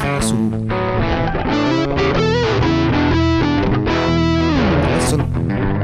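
A heavily distorted electric guitar plays a solo, loud and sustained, with bending notes over a full band backing throughout.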